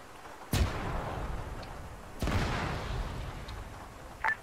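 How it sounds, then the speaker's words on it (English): Two deep booming explosions in the video game Arma 3, a couple of seconds apart, each rumbling away into the distance. A few faint pops follow. "What are those explosions? That is cash cooking off."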